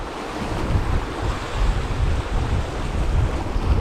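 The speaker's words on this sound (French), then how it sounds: "Ah, il y a beaucoup de vent." Strong wind blowing by the sea during lure fishing, a loud, continuous gusting roar buffeting the microphone, with surf churning underneath and no voices.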